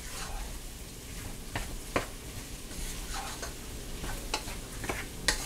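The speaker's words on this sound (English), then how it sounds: "Put garlic on there. Stir this up." Garlic cloves, three of them, stirred around a hot pan for beef stroganoff, with a soft steady sizzle under scattered scraping strokes and a few sharper knocks of the spoon against the pan.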